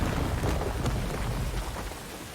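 Heavy rain pouring in Star Wars Jedi: Fallen Order, a dense continuous wash of water with low rumbling like distant thunder, steady and loud throughout without any voices.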